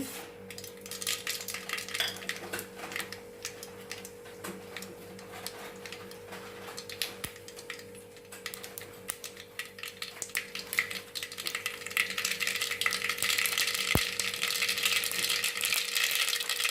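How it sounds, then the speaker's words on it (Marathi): Mustard seeds tossed into a hot pan for a simple children's meal crackle and tick in dense, scattered pops, faint at first and growing into a louder, continuous spattering. "ह्यामध्ये घालते मोहरी"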